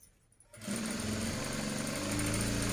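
A sewing machine stitches the edges of fabric for a child's Krishnashtami panche. After a short quiet moment it starts up and runs as a fast, steady whirring drone, close and continuous.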